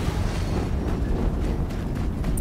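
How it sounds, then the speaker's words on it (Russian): Another explosion in the video game Horizon Zero Dawn, a deep continuous rolling rumble that stays loud and steady, with faint crackles over the top. "Еще один взрыв."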